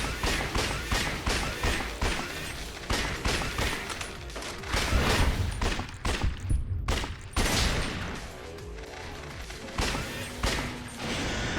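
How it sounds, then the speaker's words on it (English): Grenade explosions in Lost Judgment during a fight with a giant spider, thuds and booms scattered among rapid gunfire and clattering effects, loud and close with uneven bursts. "Grenades seem to work quite well there"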